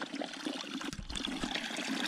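Fresh, cold water pours steadily from a shaded hillside fountain called the Schattbrunnele, a continuous close splashing stream with no talk over it.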